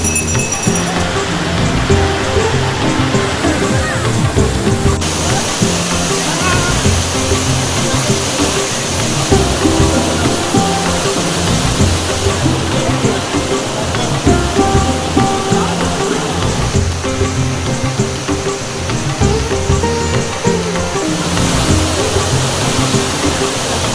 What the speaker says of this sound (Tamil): அடடடா தென்றல் வீச அப்படி கொட்டுது தண்ணி